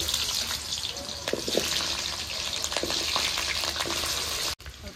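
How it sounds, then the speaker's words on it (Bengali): Potatoes fry in hot oil in a wok, giving a steady, close-up, hissing sizzle. It holds evenly for several seconds and then cuts off abruptly near the end. "কড়াইটা এখন আমি তেল দিয়ে দেব আর আমি আলুগুলি ভেজে নেব।"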